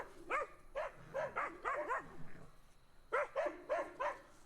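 A dog barks repeatedly outdoors on a hillside, with a quick burst of several barks, a short pause, and then another string of sharp barks at moderate distance.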